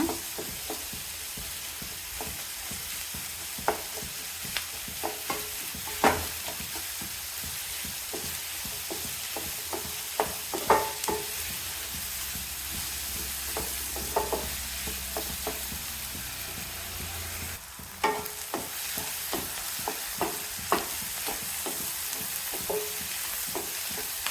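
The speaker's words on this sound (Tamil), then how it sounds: "சின்ன வெங்காயம் நல்லா வதங்கட்டுங்க" Small shallots sauté in a pan for a country chicken curry, a steady sizzle under repeated scraping stirs and clinks from the spoon, close and fairly loud, with no talk.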